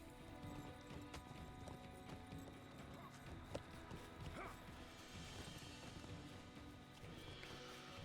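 Horse hooves clip-clop steadily in The Lord of the Rings Online, a continuous, fairly quiet trotting rhythm with game ambience and faint voices underneath.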